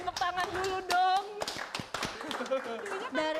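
A small group of Karang Taruna youth organizers claps in scattered, uneven bursts, mixed with lively talking and laughter close by.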